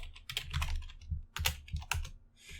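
Keys clatter on a computer keyboard while someone types Python code, a close, irregular burst of crisp clicks and heavier thumps lasting a couple of seconds with no voice over it.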